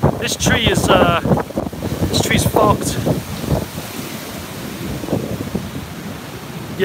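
A strong gust of typhoon wind during Typhoon Mangkhut roars past on a city street, loud and blustery at first then easing into a lower rush, with someone talking over it.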